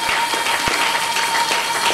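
A Sunday church congregation applauding, dense and steady clapping from many hands with a few sharper claps standing out and a faint steady tone underneath.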